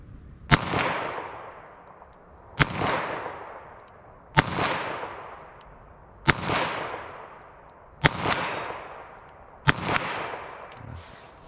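Six sharp .22 Magnum handgun shots fired at steel targets 50 yards away, comparing Speer Gold Dot and CCI rounds, crack out at steady intervals of about two seconds, each with a quick echoing decay, outdoors with no talking.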